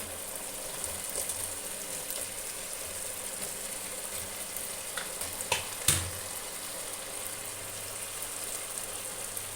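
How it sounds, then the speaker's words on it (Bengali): French fries dropped into a hot wok (kadai) for chilli potato set off a steady, broad sizzle of frying oil that continues evenly, with a brief sharper crackle near the middle and no voices. "আমি ফ্রেঞ্চ ফ্রাইগুলোকে দিয়ে দিব"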